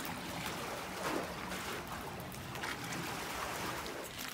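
Water gently lapping beneath a dock, a soft continuous wash of small splashes and trickles heard close and steady with no voices.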